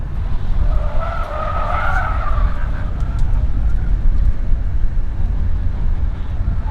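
A BYD Atto 3 electric SUV drifting through a figure eight, its tires skidding with a loud, sustained squeal that rises and wavers over a steady rolling roar of road noise.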